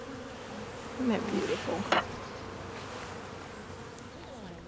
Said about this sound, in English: Then they get to handle the bees and they get to be with them.